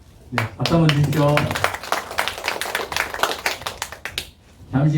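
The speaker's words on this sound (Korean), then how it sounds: "박수 한번 주십시오" A ceremony audience at an installation event for a regional organic farming association's chapter head claps in a short burst of several seconds, with a voice speaking before and after the clapping.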